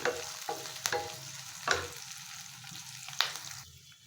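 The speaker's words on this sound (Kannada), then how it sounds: "ಇದೆಲ್ಲ ಚೆನ್ನಾಗಿ ಫ್ರೈ ಆಗಬೇಕು ಸ್ವಲ್ಪ ಮೆಣಸಿನ್ಕಾಯಿ ಎಲ್ಲ" Garlic, ginger and green chillies fry in a pan with a soft, close sizzle broken by a few sharp spoon taps and scrapes, no voices.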